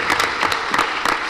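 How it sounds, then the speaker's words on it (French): Brief burst of audience applause at a book signing ceremony at the Daniel Sorano national theatre, loud, close clapping with distinct individual hand claps in an uneven rhythm. "Je voudrais ici qu'il soit honoré et qu'il soit applaudi"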